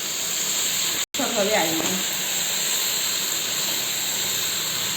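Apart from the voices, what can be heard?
marinated chicken sizzling in hot pan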